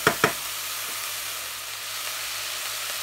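Peppers and onions with spices sizzle in a pan, a steady close frying hiss that runs throughout after a couple of quick clicks at the start, with no talking.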